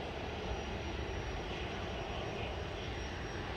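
A KLM Boeing 737-800 airliner departs Manchester Airport for Amsterdam, its engines giving a steady, broad roar that stays at an even loudness throughout, with no talk.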